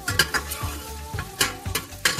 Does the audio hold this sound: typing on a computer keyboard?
no